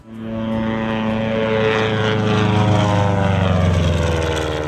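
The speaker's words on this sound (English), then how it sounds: "Let's go flying, Ruth." Loud, steady propeller airplane engine droning close by, a constant buzzing hum with slightly rising intensity and no talking.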